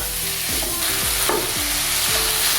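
Chicken sautés with onion, ginger and garlic as filling for chicken momos, giving a dense, loud, continuous sizzle with a few faint scraping strokes and a low background hum throughout.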